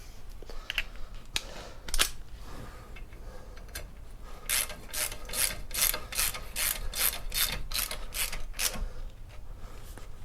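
A hand ratchet clicks in a fast, even run of about a dozen sharp ticks as it tightens a bolt holding a front brake disc on a VW T5 van, close up over a low background hum, after a few scattered clicks.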